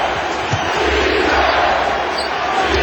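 A basketball crowd at the Pepsi Center stands and roars, a loud unbroken wall of cheering and arena noise filling the whole stretch.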